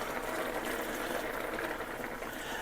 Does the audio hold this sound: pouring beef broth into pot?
yes